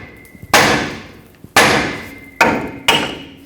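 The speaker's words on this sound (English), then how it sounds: "I'm going to hammer the knuckle to try to break this free and then hammer the stud upwards" Four sharp, loud metallic hammer blows ring out at uneven intervals as a steering knuckle and stud are struck to break them free on a 2011-2016 Ford F-350, each strike decaying into a short ringing tail.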